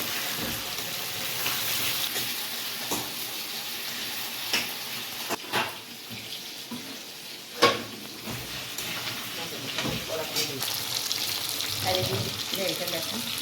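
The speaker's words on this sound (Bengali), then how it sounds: "এই মাছের মাথাগুলো ভেজে নিচ্ছি" Fish heads frying in a pan of oil in a Bengali home kitchen, a steady close hiss and sizzle with occasional sharp crackles and clatters, no talking.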